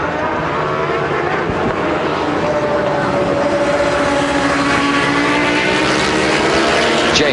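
Suzuki and Ducati superbikes, including two Xerox Ducatis, race at Phillip Island near Lukey Heights. Their engines make a continuous, loud, high-revving roar with shifting tones that fills the whole stretch.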